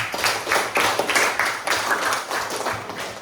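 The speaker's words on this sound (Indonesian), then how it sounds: "Tepuk tangan untuk kelompok 3." Classroom group clapping for a student team, rhythmic fairly loud applause with many hands beating in a steady pulsing pattern for a few seconds.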